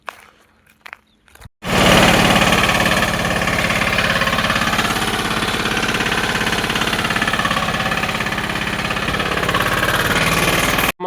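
A farm water pump motor starts up and runs steadily, a loud, even mechanical drone with a rapid pulsing knock that continues unbroken after a brief quiet start.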